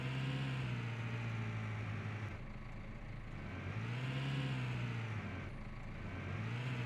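A tractor engine pulling a seeder in a farming game, a low steady drone that swells and eases in slow waves, fairly quiet and continuous.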